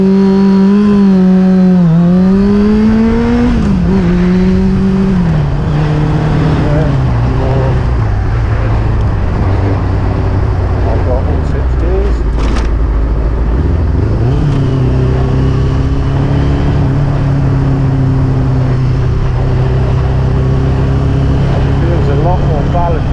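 A Kawasaki ZX6-R with jetted carbs on a test ride, its engine loud and close, repeatedly revving up and shifting through gears with rising pitch sweeps, a voice talking over it at times.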